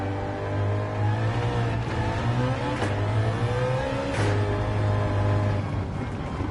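A 1973 BMW CSL with a swapped modern engine in Gran Turismo 7 revs and accelerates through gear changes, rising and falling in pitch, loud and close with a buzzy, racing tone.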